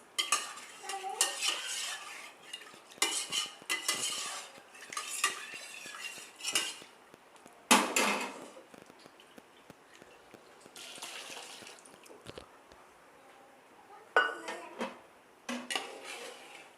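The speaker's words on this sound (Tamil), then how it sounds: "இப்போ இந்த 1/2 லிட்டர் தண்ணி இதில் ஊற்றி கலக்கி ஊற்றிடலாம் பாத்திரத்தில்." Water is poured and stirred into a pot of beef biryani in a home kitchen. A metal spoon scrapes and clinks against the vessel in irregular bursts with liquid sloshing between them, close by and with no voices.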